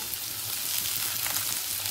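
Cut ash gourd goes into hot oil with panch phoron and raises a loud, close sizzle that crackles steadily through the whole moment, with no voice over it.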